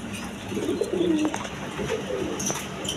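A pair of big high-flying Giribaz pigeons nesting with two chicks coo softly in a loft, a couple of low rolling calls close by over background hiss.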